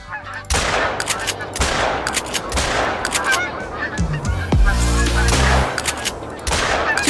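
Geese honking in loud overlapping calls as a flock comes in during a Call of the Wild hunting game, broken by bursts of shotgun fire, several sharp booming shots clustered near the middle, all close and prominent.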